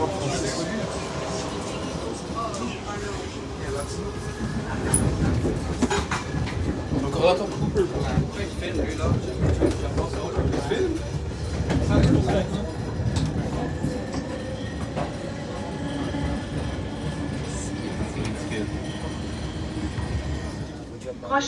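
A new CRRC passenger train rolls along the rails, heard from inside the car as a continuous rumbling roar with rhythmic wheel clatter and occasional squeals; people talk over the train noise.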